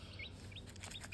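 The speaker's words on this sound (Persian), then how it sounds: "نسل 7 جوجه هم گرفتم" Baby chicks chirp faintly: a few short, high peeping calls in quick succession against a quiet indoor background.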